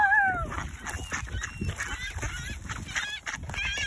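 Ducks give a loud, close honk at the start, then a run of scattered squawks and quacks over an outdoor background.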